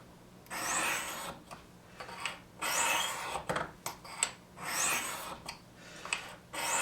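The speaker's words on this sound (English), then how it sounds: "Always make sure when you're using the Sharpmaker or any sharpening medium, end your stroke with the tip still on the stone or the rod." A knife blade is drawn across Sharpmaker ceramic rods in repeated rasping strokes, each a soft scraping sweep followed by short pauses. The strokes come in an uneven rhythm, close and fairly quiet, with no talking.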